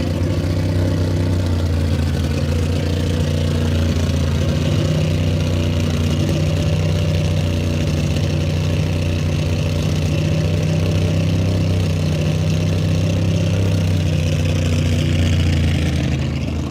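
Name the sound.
vintage engine gas modified roadster race car running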